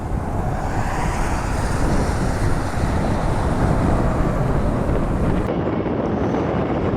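Wind buffets the microphone on a rainy, misty day at Cleveland Hopkins International Airport, a loud, steady rumbling roar with hiss that runs continuously before cutting off sharply near the end.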